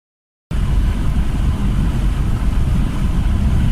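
A car drives along Slovak road 1330, running parallel to the R1 motorway in Slovakia. A steady, close, loud rumble of engine and road noise fills the clip without pause after a brief silent start.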